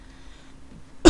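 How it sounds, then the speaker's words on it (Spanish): A single sharp cough bursts out near the end after quiet game background sounds, loud and close. "Tengo tos."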